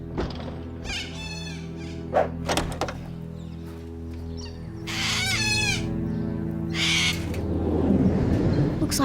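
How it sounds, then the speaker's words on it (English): Cartoon birds call out in a series of sharp, clucking and crowing-like cries, rising and falling in bursts over a constant low background hum. "I can't believe he's really stealing birds."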